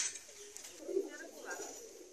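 Pigeons kept at a home breeding operation coo softly, low throaty calls rising and falling over a faint background with brief higher chirps.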